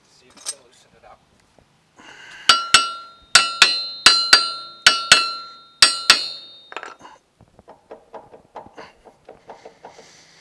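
A hammer strikes the front hub of a Can-Am Maverick Sport XRC in a quick series of sharp metallic taps, about a dozen ringing hits close up, followed by lighter clinks and rattles.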